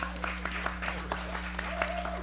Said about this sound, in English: Give yourselves a round of applause for showing up.